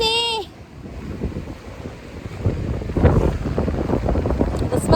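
Strong wind gusts buffet the microphone on a cold Norwegian beach at Rørvikstranda in Lofoten, a rough, rumbling roar that rises and falls, with a brief tone at the very start.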